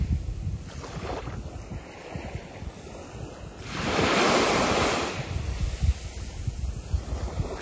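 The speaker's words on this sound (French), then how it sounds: "Je vous fais écouter un petit peu le bruit des vagues." Ocean waves breaking at the seaside on a windy day, a steady wash of surf with one louder surge rolling in midway, wind buffeting the microphone throughout.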